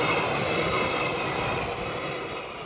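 An A-line commuter train rolls past with no horn, a continuous loud rumble of wheels and cars that slowly fades, with no talk.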